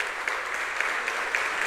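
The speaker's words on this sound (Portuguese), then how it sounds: "Pode aplaudir o Senhor?" A church congregation applauds during a Sunday morning service, a dense, steady wash of clapping from many hands that fills the room without a break.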